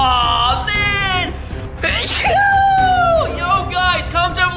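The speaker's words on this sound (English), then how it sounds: "Why am I sneezing?" A single sneeze bursts out amid excited shouting and squealing voices, loud and close, with people talking and yelling around it.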